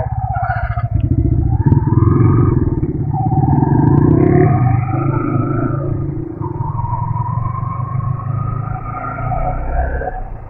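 A modified Yamaha R15 V3 motorcycle with a full exhaust system idles and revs in a steady, throaty drone, swelling briefly before settling, loud and close with no talk over it.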